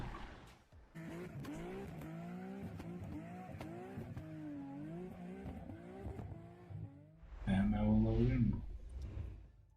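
A car's exhaust note rises and falls in revving sweeps, with a loud throaty burst near the end; voices talk intermittently over it.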